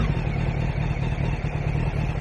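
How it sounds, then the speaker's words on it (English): A used motorcycle's engine runs cold just after starting, a steady, close low rumble at even idle with a faint mechanical clatter and no voices. "Dakle, idemo sad upaliti motor."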